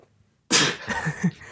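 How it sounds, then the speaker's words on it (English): A single person's sneeze bursts out suddenly after silence, close and loud, trailing into a brief breathy exhale. "I'm gonna sneeze."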